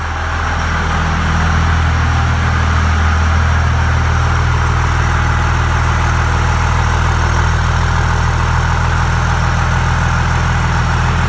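Cummins diesel engine idling in cold winter weather right after starting with new batteries, a loud, steady low rumble with a constant drone close to the microphone.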